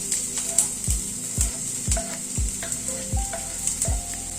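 Onion added to browned garlic fries in a pan with a constant close sizzle, punctuated by about half a dozen regular spatula scrapes and stirs.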